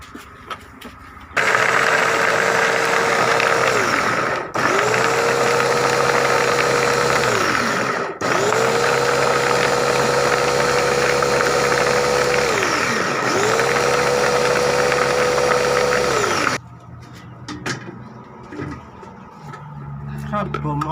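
An electric blender grinds Thai northern-style curry paste ingredients such as chilies, turmeric, shallots and shrimp paste, running in four loud steady bursts with short pauses between, each spinning up and winding down, then falling quiet.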